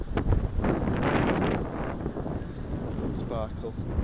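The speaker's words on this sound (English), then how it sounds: "Wind's picking up." Gusty outdoor wind buffets the microphone in a loud, rumbling rush through the whole stretch, rising and easing slightly, with someone speaking underneath.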